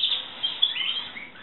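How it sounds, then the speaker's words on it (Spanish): Male canaries sing in an aviary with a faint, continuous stream of high chirps and trills, without any voices. "Esto es una locura, todos los pájaros que cantan."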